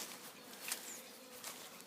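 Honeybees buzz around hives at a spring apiary, a soft continuous drone with individual bees passing close now and then, fairly quiet and steady, with no talking.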